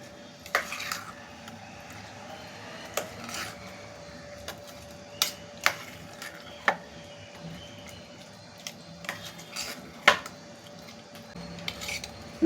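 A spoon stirs thick yogurt with salt in a dish, making faint, scattered clinks and taps against the dish over a quiet background, spaced irregularly.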